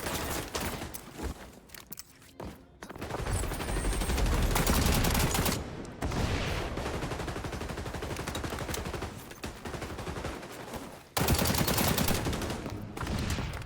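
Automatic AK rifle fire in a first-person shooter game, loud and sustained in long dense bursts with short pauses between volleys.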